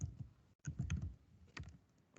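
Keys tapped on a computer keyboard, with a handful of soft clicks and a space bar press coming in small uneven clusters, quiet and close.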